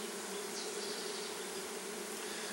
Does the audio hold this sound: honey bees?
yes